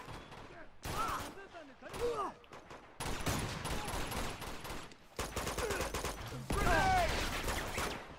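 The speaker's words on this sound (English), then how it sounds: "where am I getting shot from?" Rapid gunfire bursts from the Uncharted 2 Among Thieves Remastered game on PS4, crackling in dense volleys across the whole stretch while a player's voice exclaims over parts of it.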